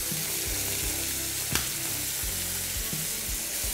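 Prawns laid into a pan of very hot oil, a close steady sizzle with a few soft knocks as they are placed.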